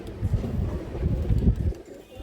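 A silver female pigeon coos in low, repeated throaty pulses close by, with soft rustling and faint background noise.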